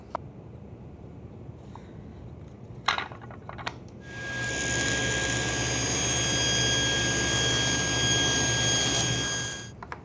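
A few faint knocks and handling clicks come first, then a table saw rips thin wood strips in a loud, sustained cutting whine lasting about six seconds before tapering off, heard close and without speech.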